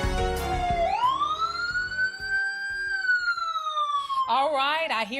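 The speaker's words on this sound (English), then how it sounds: "All right, I hear the sirens." A wailing emergency siren sweeps up and holds a long, loud, steady tone before trailing off into a fast warbling pattern, with brief voices at the start and the end.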